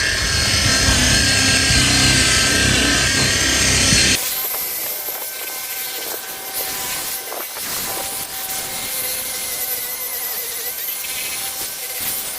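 A rotary polishing machine spreads compound over car paint: a loud, dense whirring for about four seconds, then a quieter, steady spinning whine with light rubbing noises.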